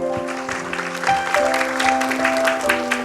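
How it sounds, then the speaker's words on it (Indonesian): An audience at an Indonesian Quran recitation competition grand final claps for an arriving guest, steady applause sounding fairly close, with a tonal musical drone or hum running underneath. "tepuk tangan untuk Habib Nabil"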